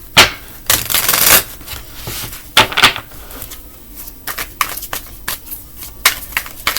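Tarot cards are shuffled close up in a series of crisp riffling and slapping bursts, irregular and fairly loud, with short gaps between them.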